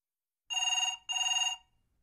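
A telephone rings in a home, two even electronic bursts of trilling bell tone separated by a short pause, clear and alone.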